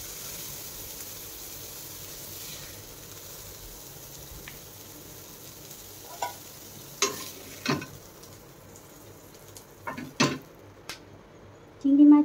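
Prawns fry in a pan with a soft continuous sizzle, broken by several sharp clicks and knocks of a utensil against the pan that grow more frequent toward the end.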